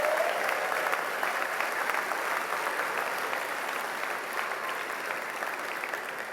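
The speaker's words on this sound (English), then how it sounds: "that deserves a round of applause." Broad, sustained applause fills the hall at a Millersville University graduate commencement, a steady wash of many hands that fades slightly toward the end.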